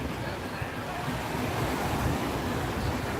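Ocean waves wash onto a windy beach at Destin, Florida, heard as a continuous roar of surf mixed with heavy wind buffeting the microphone, with no talking.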